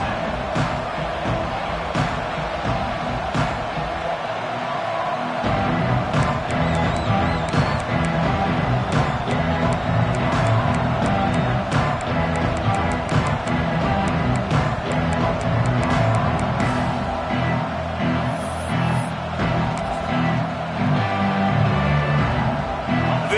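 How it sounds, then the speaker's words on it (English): Football stadium crowd making a loud, continuous roar that swells and stays high, with broadcast commentators talking over it. "this crowd ready to make its presence known"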